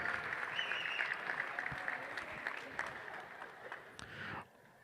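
Crowd at a women's college basketball game applauding a spirit squad honoree, a moderate wash of clapping heard from a distance in a large arena, fading out near the end.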